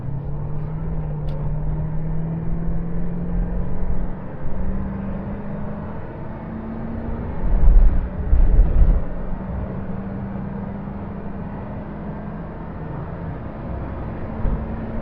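A 1990 Range Rover Vogue SE, a heavy two-ton vehicle, pulls hard from a standstill toward 60, its engine note rising in pitch through the gears with a brief rougher rumble midway, heard steadily from inside the cabin.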